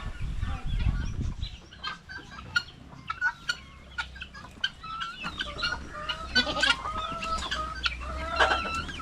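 Chickens clucking at a rural farm hut with turkeys nearby, many short clucks and squawks in irregular bursts, fairly close, alongside a low rustle at the start.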